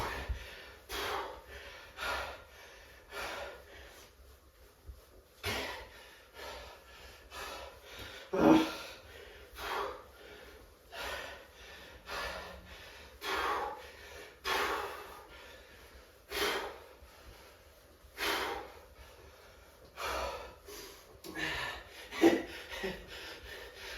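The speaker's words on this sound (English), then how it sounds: "now you can really hear me breathing and suffering" Heavy, labored breathing from a person pedalling hard on a quiet stationary bike during a workout, with repeated loud gasps and exhales in an irregular rhythm close to the mic, plus occasional snort-like breaths.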